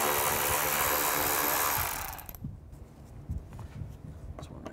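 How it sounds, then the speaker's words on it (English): A power tool with a T20 socket removes screws beneath the front bumper of a 2011-2014 Chevy Cruze, a loud steady whir for about two seconds that stops, then quiet handling noises and a voice. "Now from underneath, I'm going to take these screws out."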